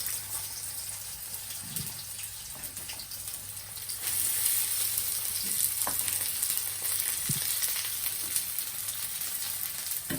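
Onion paste frying in hot oil for pulao, a soft steady sizzle and crackle at low level that grows slightly louder midway, with occasional clinks of a utensil and no talking.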